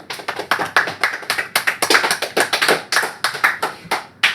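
Students in a classroom clap for a classmate, a lively burst of quick, uneven hand claps from a small group, close and steady throughout with no talking.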